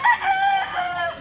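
Rooster crowing nearby at a gamecock market in Consolacion, Cebu, one short loud call heard alone.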